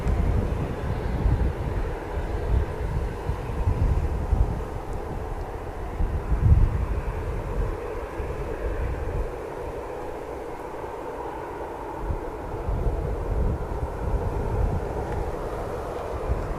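EasyJet and Jet2 airliners hold at the foot of the runway at Manchester Airport, their engines a steady low rumble and whine that lingers alone at moderate distance without surges.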